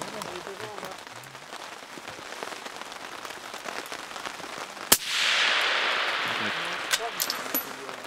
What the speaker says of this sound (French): Il y a un peu de pluie